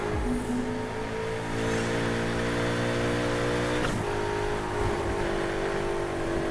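A Ferrari 488 GTB accelerating in the racing game Need for Speed Heat, its engine note climbing steadily as the revs rise. There is a brief shift-like dip partway through, after which the sustained drone carries on, close and loud, with no talk over it.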